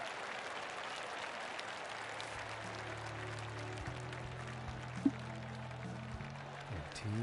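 A golf gallery in The Golf Club 2019 claps after a putt, producing a sustained, fairly faint patter of applause with a low tonal hum beneath it and no voices.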